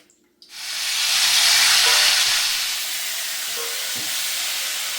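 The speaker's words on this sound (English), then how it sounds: "we're gonna make sure the salmon is nicely seared" Salmon sears in a hot pan alongside jasmine rice for jerk salmon fried rice, a loud, steady sizzle that erupts after a short quiet start and holds throughout, with a couple of faint clinks underneath.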